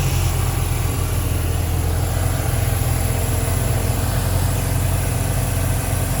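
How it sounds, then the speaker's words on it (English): A Mazda RX7's 13B rotary engine idles warm with dual pulley belts fitted, a steady, loud, continuous hum with a fast burbling pulse and no pauses or voices. "Warmed up. He's idling nice."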